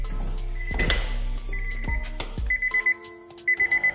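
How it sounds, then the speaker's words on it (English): Several short electronic beeps from a 1999-2002 Honda Accord, coming in quick bursts of about four tones near the end, mixed with clunks and rattles of work inside the car. "here's some beeping."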